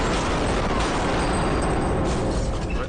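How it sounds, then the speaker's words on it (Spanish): A loud gunshot sound effect from the horror film REC, a dense booming blast that fills the whole stretch with sustained rumbling noise and no voices. "Ahora veremos el momento del disparo"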